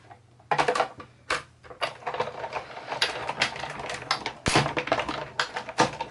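Card stock being pushed and punched out of a cut letter M, a run of rustling, crackling bursts and small taps at close range with no talk.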